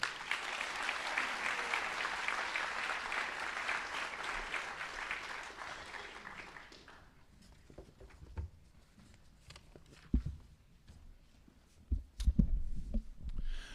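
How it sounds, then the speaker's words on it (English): Audience applause at a school district employee recognition program, a dense steady clapping that fills the room for several seconds, then thins and stops, leaving a few scattered thumps and handling noises. "Another round of applause for Heidi."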